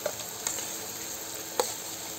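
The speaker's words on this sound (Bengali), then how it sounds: "যে পর্যন্ত পনিরটা ভাজা হবে সেই পর্যন্ত আমি মশলাটা পিষাই নেব।" Paneer pieces fry steadily in hot oil, a constant close sizzle with a couple of brief clicks from a utensil, and no one speaking.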